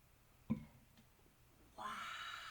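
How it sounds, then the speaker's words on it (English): Plain water is poured slowly into a jar holding an egg during a salt-water science experiment, a soft, steady trickling wash that begins near the end after a quiet pause with a faint bump, low in level. "I'm going to slowly add the water."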